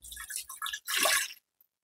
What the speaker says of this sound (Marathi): 1 ग्लास पाणी ओतते